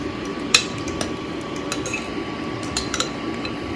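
Mixed vegetable raita being spooned into a serving dish, with a few light clinks of a utensil against the dish over a low steady kitchen background.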